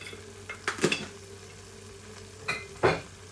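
A spoon stirs moru curry with coconut and turmeric in a pan, two separate scraping, clinking strokes against the metal over a quiet, faintly bubbling background.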